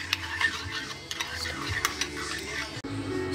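A meatloaf mixture of minced meat is stirred in a bowl, giving a steady run of soft, wet scraping and light knocks against the bowl, close and moderately loud.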